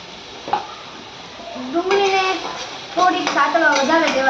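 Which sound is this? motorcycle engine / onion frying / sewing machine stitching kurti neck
onion frying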